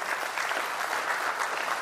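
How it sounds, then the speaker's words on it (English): Church audience clapping during a sermon: a brief, steady burst of many hands applauding together at an even level. "It might be, now you're clapping"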